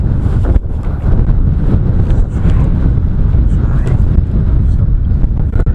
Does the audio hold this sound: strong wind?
yes